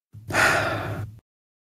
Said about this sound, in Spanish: Respiración 3.